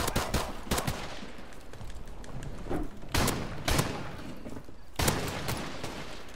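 Heavy shotgun blasts from a video game shooter, about five loud booming shots spaced roughly a second apart over steady background game noise.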